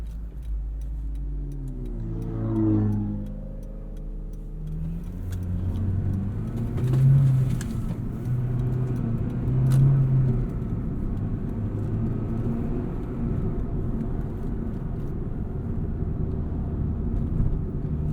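A 2006 Acura RSX Type-S with a six-speed manual idles as its engine warms up, a steady low hum close by, with a brief rise in pitch early on before settling back to an even drone.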